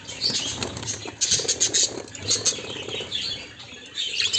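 Caged birds, likely finches or similar small birds in an aviary, flap their wings in repeated rapid bursts as they are caught, with faint chirps and patter close by and no talk.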